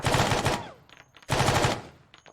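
Gunfire in the military shooter game Arma 3: two loud bursts of rapid automatic fire, each followed by a ringing echo and reverb tail, with a short pause between the bursts.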